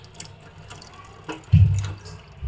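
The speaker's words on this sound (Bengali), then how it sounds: "জলও বন্ধ করে রেখে দিয়েছিলাম জলটাও চালু করতে হবে" A kitchen water tap is turned on, and running water gushes close by partway through, after faint drips and clatter.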